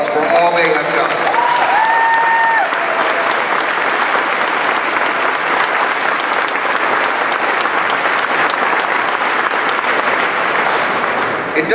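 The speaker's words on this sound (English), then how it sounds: "I want to again give them a round of applause for all they have done." A large audience at a marriage rally in Iowa breaks into loud, sustained applause that fills the whole stretch evenly, with a few brief whistles and cheers near the start.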